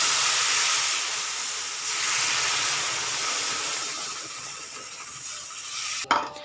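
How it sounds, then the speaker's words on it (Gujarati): Milk poured into roasted semolina (rava) in a hot pan sets off a loud, broad hissing sizzle that slowly fades, ending with a sharp clatter of a utensil against the pan. "આપણે એની અંદર દૂધ એડ કરીશું"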